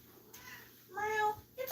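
Charlie, a pet cat, gives a short soft meow indoors, a single drawn-out close cry heard quietly with low background hum.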